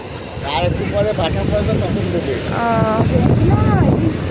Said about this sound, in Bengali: সেই সেই ঢেউ।